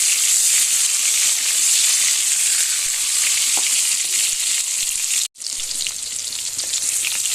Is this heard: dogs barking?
no